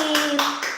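A child gives about three brisk hand claps up close while an adult voice carries on over them.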